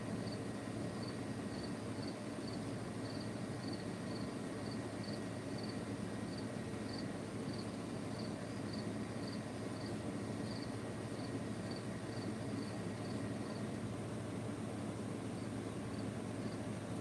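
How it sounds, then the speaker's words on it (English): Night crickets chirping steadily in the background, a soft, evenly repeating high trill that runs for most of the stretch over a low ambient rumble, with no talking. "Maybe the crickets are a little too loud."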